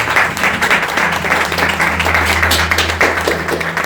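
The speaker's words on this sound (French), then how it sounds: "Acclame pour la parole du Seigneur" A church congregation applauds in a dense, steady wash of clapping that runs loud and unbroken throughout, with a few voices faintly mixed in.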